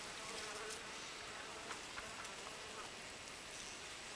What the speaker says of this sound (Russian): Тут у нас пчелы